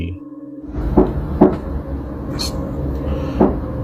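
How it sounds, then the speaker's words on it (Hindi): Several dull knocks land at uneven intervals over a low background rumble, like knuckles rapping on a wooden door in a quiet room. "están tocando la puerta"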